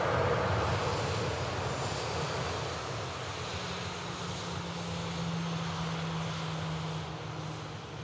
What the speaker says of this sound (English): Got the Etihad pushback here, lads.